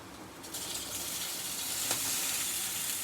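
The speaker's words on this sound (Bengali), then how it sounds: "এবার আমি এর মধ্যে সেদ্ধ করে জল ঝরিয়ে রাখা পাস্তাটা দিয়ে দিচ্ছি।" Drained boiled pasta is tipped into a hot pan and stirred, setting off a steady, soft sizzle and hiss close by, with no talking.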